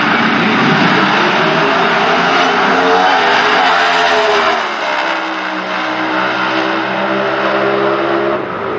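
Pro Stock drag race cars tear down the track at an NHRA national event, their engines a loud, continuous, close roar that holds steady and then shifts pitch slightly partway through.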